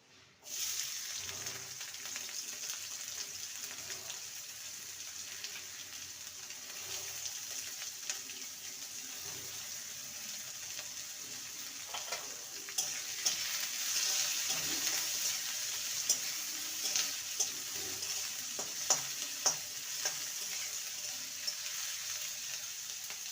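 Onions frying in mustard oil in a wok, a steady close sizzle with a bright hiss that runs the whole time, plus scattered clicks and taps from stirring that pick up toward the end.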